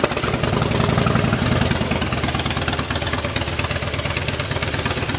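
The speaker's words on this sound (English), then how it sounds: "I'm gonna start it up, let you hear it run." A fuel-injected Harley-Davidson Fat Boy with a Vance & Hines Big Shots exhaust idles with a loud, steady, close-up rumble of throbbing V-twin pulses, holding an even rhythm throughout with no talking.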